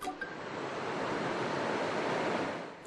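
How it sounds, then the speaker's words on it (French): A tidal bore of salt water surging up the Petitcodiac River, heard as a steady, loud, broad rushing roar of moving water that swells and holds for a few seconds with no voices. "2 fois par jour, une vague d'eau salée remonte la rivière."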